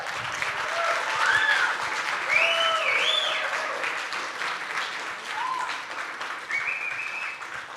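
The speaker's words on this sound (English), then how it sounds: "if you were reserving some emphasis in your round of applause, I want you to give it all to them right now." A ceremony audience gives a steady round of applause at the opening of a technology cup event, a continuous crowd patter with scattered cheers and whoops rising above it.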